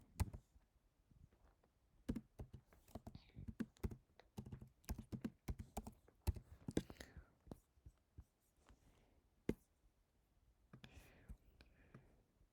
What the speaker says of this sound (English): Then let's type something else.